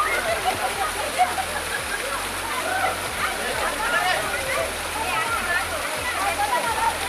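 Talakona waterfall, a forest cascade, roars as a steady broadband rush of falling and splashing water, close and loud throughout with no letup.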